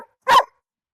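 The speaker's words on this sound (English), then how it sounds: "What are you barking at" A dog gives a single short, loud bark close by in an otherwise quiet room, with a faint trace of a prior sound at the very start.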